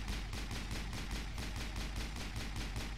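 Rapid automatic gunfire from the Mass Effect video game, a steady run of about a dozen evenly spaced loud shots filling the whole stretch with no pauses.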